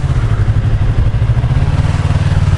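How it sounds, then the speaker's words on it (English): A 2016 Yamaha MT-03 with a 321cc parallel twin engine thrums steadily in a low, even pulse, loud and close while riding, with no one speaking. "Now, as I said, it is a little parallel twin. It's only 321 cc's,"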